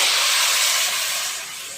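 Val beans hit a hot tempering of oil with red chilli powder, turmeric and ginger-garlic in a pan, giving a loud, close, bright sizzling hiss that gradually fades.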